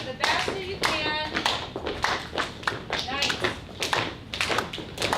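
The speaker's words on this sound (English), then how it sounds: "Even going in there and clap your hands." A group of people in a room clap their hands in irregular bursts and rhythmic patters during a self-regulation movement exercise, with brief speech mixed in.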